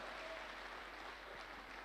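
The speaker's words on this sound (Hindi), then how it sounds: "एक जोरदार ताली गोपाल जी के लिए।" A crowd gives an enthusiastic round of clapping for a person at a motivational gathering, a dense, even wash of applause from a sizable audience heard at moderate distance throughout.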